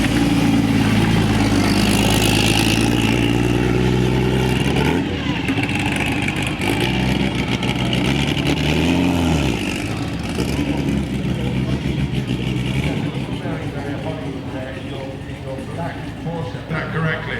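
The 1979 Daytona 24 Hours-winning Porsche 935 race car idles and revs close by with a loud, throaty engine note, while someone talks over it throughout.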